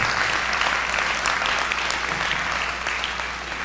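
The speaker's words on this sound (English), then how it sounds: "Let's have a tremendous round of applause for the entire faculty support staff" A graduation audience gives a long, dense round of applause for faculty and support staff, many hands clapping steadily and loudly before easing slightly near the end.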